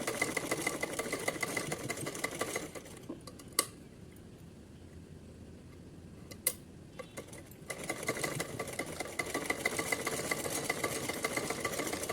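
A sewing machine runs a straight stitch along a fold on a small cap for a Krishna idol's summer outfit, whirring rapidly and steadily up close for a few seconds, pausing, then stitching on again.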